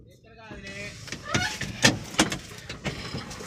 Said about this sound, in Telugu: బండి స్టార్ట్ చేయకుండా వెళ్ళిపోతుంది